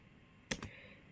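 A ping command is typed into a computer's command prompt, heard as two quick, quiet keystroke clicks close together in an otherwise hushed room.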